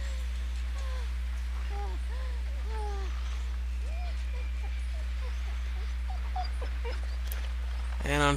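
An impaled dog in The Walking Dead Season 2 video game whimpers and yelps in a series of short, high, pitiful cries over a steady low hum.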